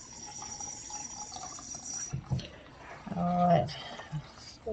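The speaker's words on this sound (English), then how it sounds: "just put water for the rest of it to make a cup" Tap water runs into a measuring cup already holding evaporated milk in a kitchen, a faint trickle that briefly swells into a louder fill before stopping.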